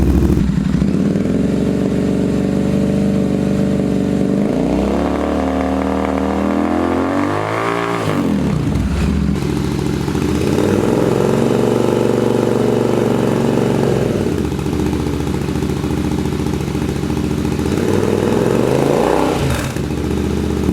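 A Royal Enfield Interceptor 650 fitted with an SC-Project Conic long muffler idles loudly and close, with a steady throbbing exhaust and a few blips of revving that rise and fall.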